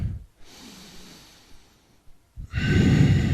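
Deep breaths during a yoga pose on a recovery flow, a slow inhale followed by a long, loud, close exhale, with no talking.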